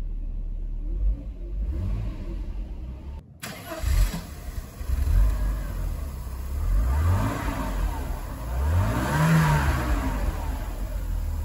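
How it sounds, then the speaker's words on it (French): A 1989 Mercedes 300 SEL starts at once, its engine catching cleanly and settling into a smooth idle with a couple of gentle revs swelling and fading, close and steady with no talking. "Ça démarre au quart de tour, c'est magnifique, c'est très velouté."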